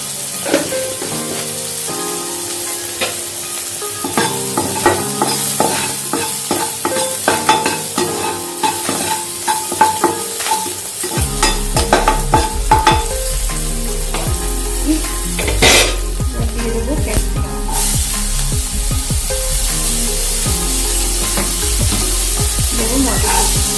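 Navratan pulao frying lightly in a pan, a steady loud sizzle broken by repeated scraping and clinking of a spoon stirring against the metal pot, with a low hum added midway, no speech.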